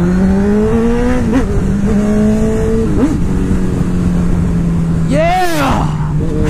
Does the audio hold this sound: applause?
no